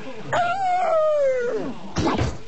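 A dog yelps in one long, wavering, falling cry as it is thrown from a height, loud and near, followed by a short burst of noise.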